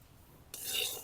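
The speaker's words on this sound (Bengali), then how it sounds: "ভাজা পাতাটাকে শিলপাটায় এখন বাইটে নিব।" Fried bottle gourd leaves being ground on a flat grinding stone: after a quiet moment, a sudden rough, gritty rasping stroke starts and carries on briefly, close and fairly loud.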